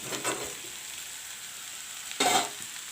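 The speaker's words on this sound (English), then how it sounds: "Aalu Bhujiya is fried up." Potatoes for aloo bhujiya fry in hot oil with a faint, steady sizzle, marked by two brief louder crackling bursts, one near the start and one near the end.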